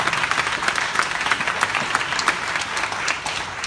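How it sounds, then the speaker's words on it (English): A crowd at a Gretchen Whitmer political event in Royal Oak breaks into steady, dense applause, many hands clapping together at a constant level throughout. "I think we should clap for that."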